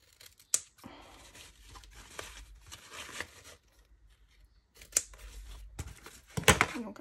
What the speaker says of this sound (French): C'est couper un petit peu au niveau des languettes, là.